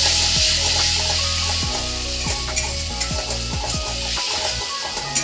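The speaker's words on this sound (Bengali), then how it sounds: "দিয়ে আমি আবারও কিছুক্ষণ নাড়াচাড়া করে নেবো ভালো করে" Tomato being stirred into a frying egg dish in a pan, a loud continuous sizzle with repeated scraping and knocking strokes of the spatula throughout, no one talking.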